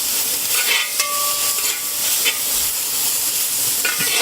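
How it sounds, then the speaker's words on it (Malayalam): Chopped shallots fry in oil in a heavy uruli pan, giving a loud, steady hissing sizzle broken by a few sharp scrapes and clinks of stirring, with no voices. "കൊച്ചുള്ളി അരിഞ്ഞ് വെച്ചത് എണ്ണയിലേക്ക് ഇടുന്നു. എന്നിട്ട് നമ്മൾ ഇളക്കി കൊടുക്കുന്നു."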